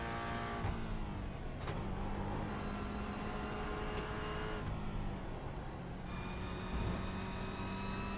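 A Toyota GR86 race car engine on track at Oschersleben, heard from onboard: a loud, steady engine drone with several distinct pitch drops as the driver shifts gears. No voices are audible.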